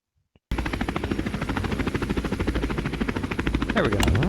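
Helicopter in the PogoChamp video game: after a short quiet start, a loud, close, steady rotor chop with rapid pulsing beats, joined near the end by a rising and falling tonal sweep.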